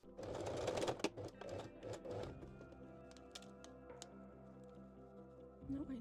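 A sewing machine runs a zigzag stitch on stretchy bikini fabric, a steady close mechanical whir for a few seconds that thins out toward the end.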